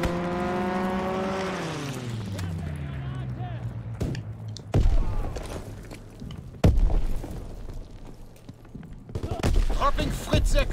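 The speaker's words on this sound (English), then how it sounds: "Enemy strafing run incoming." An enemy aircraft roars overhead in a WW2 video game, its engine pitch sweeping downward as it passes, followed by sharp bursts of strafing gunfire and booming impacts, with a player talking over it.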